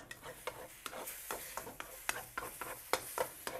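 Chicken fried rice sizzles in a new, non-stick-free wok while a paddle scrapes and stirs it in a steady run of sharp strokes, roughly two or three a second, close and moderately loud with no talk.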